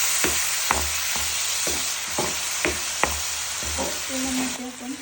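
Ground masala for a Maharashtrian matki and vatana dish fries in a pan, a steady sizzle broken by repeated scraping strokes of a spoon stirring it, close and alone without talk.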